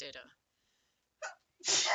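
A single quick sneeze bursts out near the end after a brief quiet pause, following a few spoken words earlier on, with a short breathy intake just before it.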